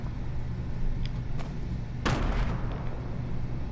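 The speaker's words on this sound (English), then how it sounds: "Dodge grenades." A grenade blows up in Fortnite Creative with a sudden, sharp blast about midway through, preceded by a couple of lighter clicks over a constant low background rumble.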